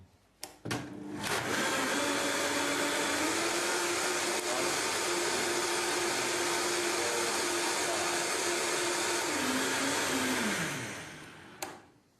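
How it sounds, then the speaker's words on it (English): A high-speed blender blends soup, roaring steadily at a loud, constant pitch for about ten seconds after a short start-up burst, then winding down as it is switched off. "So now all it's gonna do is put it inside and blend it"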